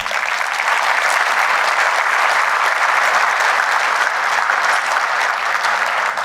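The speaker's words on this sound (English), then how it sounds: "Please give them an applause" Sustained, loud applause from a conference keynote audience welcoming Navisite as a new platinum partner, a dense even wash of clapping that holds steady for the full stretch with no voices over it.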